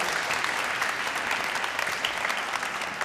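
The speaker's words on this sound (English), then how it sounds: "Another round of applause for Aisha and the mayor." Sustained audience applause at an award ceremony, a dense steady wash of clapping from a large crowd that holds at even loudness for the whole stretch.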